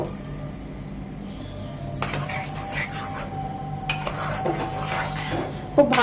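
Garlic butter prawns being stirred in a pan, with scattered metallic scrapes and clinks of utensil against cookware over a low background hum, getting a bit louder near the end.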